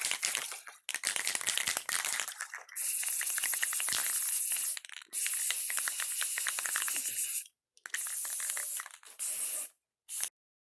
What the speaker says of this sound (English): I just put the first coat of spray paint on the tie downs.